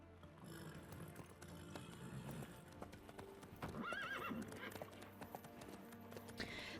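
Horse hooves clip-clop at a steady trot in The Witcher 3, with a horse neighing mid-clip over ambient game sound and low background talk.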